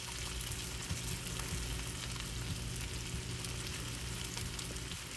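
Two eggs are scrambled beside salted vegetables in a pan for Chinese chicken vegetable noodles, producing a continuous loud hiss and sizzle with faint stirring scrapes and no voices.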